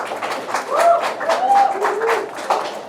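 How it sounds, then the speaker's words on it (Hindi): An audience at a film completion celebration applauds loudly, a dense burst of clapping that carries on for about three seconds, with a few voices and calls mixed in. "जोरदार तालियां"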